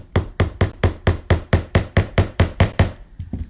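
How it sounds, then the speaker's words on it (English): Hammer tapping a small sawtooth picture hanger into place, about a dozen sharp, evenly spaced knocks in quick succession, close and loud, ending with a couple of lighter taps. "So grab my hammer. I get these on Amazon, these little sawtooth hangers."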